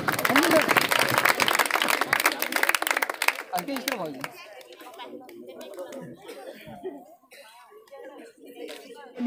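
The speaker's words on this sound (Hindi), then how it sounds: "तालियां बजाओ जोर से बच्चों" Children clap loudly at a school award ceremony for talent-exam winners, a dense burst of applause that fades after a few seconds into scattered claps, chatter and giggling.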